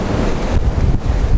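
Storm surf pounding the shore at Simeiz, Crimea, near Mount Koshka, a loud, close roar of breaking waves mixed with heavy wind buffeting the microphone, continuous with brief dips in the rush.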